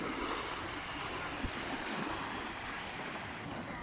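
Sea waves wash steadily at night on a Moroccan shore, a continuous broad rush of surf with wind, fairly loud and close, with no clear speech over it.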